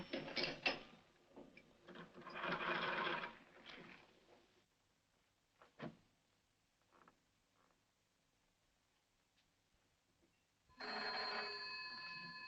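Telephone bell rings in short bursts at a gas station, 1940s setting, with quieter mechanical clicks between rings and a long final ring.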